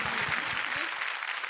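Studio audience applause after a dholki performance on a Marathi TV music contest, a dense, steady clapping wash close up, with a voice briefly mixed in.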